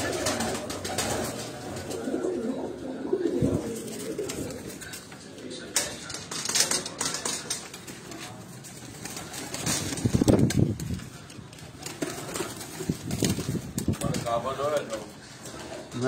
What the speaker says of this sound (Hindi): उन्होंने प्रवासी कबूतर तुहानू दिखा रहे हैं जी।